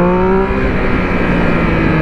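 A Triumph Speed Triple 1200 motorcycle engine revs hard and high in first gear, a loud, sustained close-up roar with a steadily climbing engine note and no talking.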